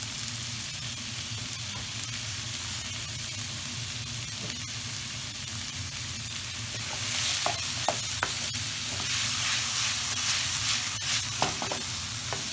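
Garlic and ginger sizzling in a wok for a Mongolian lamb stir-fry: a loud, continuous frying hiss that grows brighter partway through, with occasional spatula taps as the wok is stirred.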